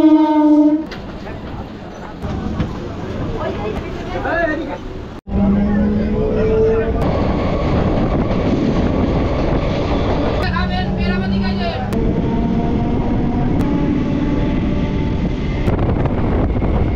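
At Ranaghat railway station, a train rumbles and clatters along the platform amid wind buffeting the microphone, with occasional horn-like tones and someone speaking over the din.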